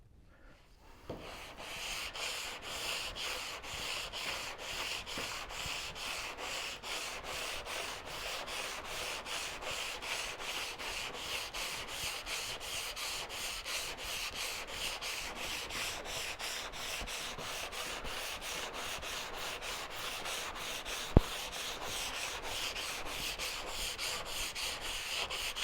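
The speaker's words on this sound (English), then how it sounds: "lightly block sand with a rigid sanding block and 150 to 220 grit paper" Block sanding bare metal automotive body panel with a rigid sanding block and 150 to 220 grit paper, a steady, continuous rhythmic rasping of back-and-forth strokes, close and loud, with one brief knock.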